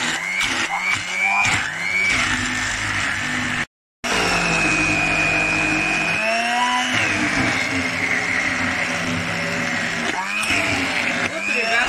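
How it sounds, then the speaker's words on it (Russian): Blender pureeing cooked zucchini into a smooth spread, a loud continuous motor whine that rises and shifts in pitch as it works through the mixture, with a brief cut-off midway and short pulses at the start and end. "все это мы сейчас будем подключать блендер и"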